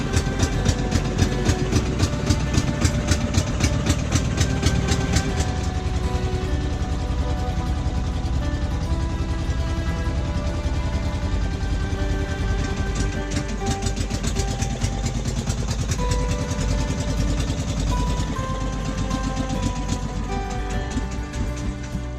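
A steady, low boat engine idles continuously throughout, a constant rumbling drone with a faint rhythmic pulse, fairly close and loud.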